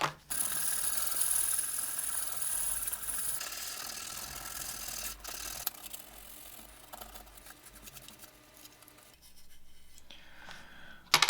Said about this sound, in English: Now we're gonna hit this with a little bit of sandpaper.